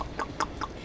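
A backyard chicken clucks three quick times in a row, close and clear, with faint background noise.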